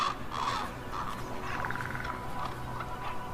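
Ravens calling north of the Arctic Circle: a few hoarse, croaking caws at moderate distance, spaced over a steady outdoor background hiss.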